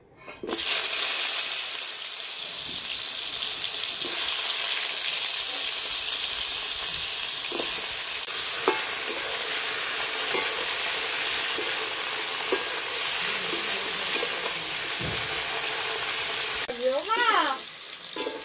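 Steady oil sizzle of pointed gourd pieces frying, continuous and close, with a few scraping stirs and a brief clatter near the end.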